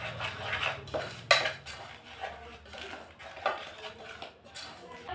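Powdered sugar and cocoa being mixed in a bowl, a spoon clinking and scraping against it in quick, irregular strokes, close by and fairly quiet, with no talk.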